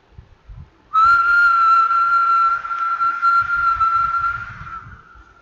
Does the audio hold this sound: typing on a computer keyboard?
no